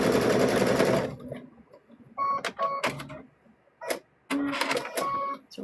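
A sewing machine stitches a stuffed bear in a loud, close run of about a second, then gives short start-stop bursts with clicks and pauses between them.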